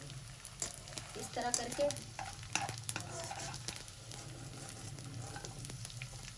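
Edible gum (gond) frying in ghee while making panjeeri, with a steady broadband sizzle throughout and clinks of a spoon stirring, plus a brief low voice speaking near the start.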